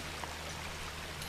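Water runs steadily from taps in The Legend of Zelda, a continuous soft rushing stream with no talk over it.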